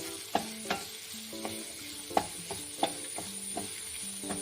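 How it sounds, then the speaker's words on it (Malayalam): Finely chopped onion and green chillies sautéing in a little ghee for upma, a soft steady sizzle broken by a series of sharp spoon scrapes and taps against the pan, close up with no voices. "സവാള പച്ചമുളകൊക്കെ ചെറുതായി അരിഞ്ഞിട്ട് അല്പം നെയ്യിൽ വഴറ്റുന്നുണ്ട്"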